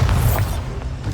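Incendio fire spell cast in the Hogwarts Legacy video game, a loud, dense low boom that swells at once and rumbles on for about a second with a slight crackling burst over it.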